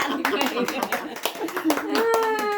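Several people clap at a child's fourth birthday party in a short, uneven burst of hand claps mixed with children's voices and chatter nearby.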